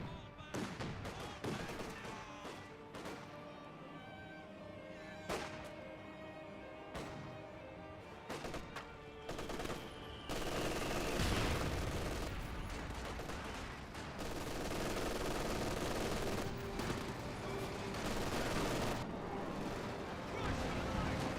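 Anti-tank gun fire from a Pak 40 in Company of Heroes 2: repeated sharp blasts and scattered gunfire over a dense battle din, under a commentator's voice, heavier and busier in the second half.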